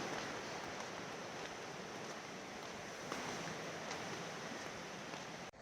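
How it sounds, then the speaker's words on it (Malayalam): Steady rushing water from a small waterfall at Lakkam in misty, cold Munnar, with wind, a continuous broadband roar that stays even and close throughout with no voices. "ഇതാണ് ഇവിടെ ഒരു ചെറിയ വെള്ളച്ചാട്ടം ഉണ്ടെന്ന് പറഞ്ഞത്"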